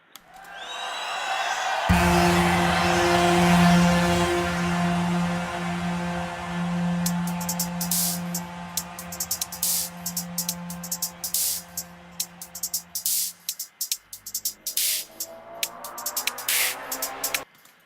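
A dubstep build-up made with DJ TriCaster: a loud, sustained synth tone with a droning low line that fades after about two seconds of quiet start, then choppy high bursts and stuttering pulses through the latter half, with no voices.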